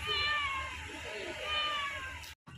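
A cat meows in a park, a drawn-out, wavering meow close to the microphone that cuts off near the end.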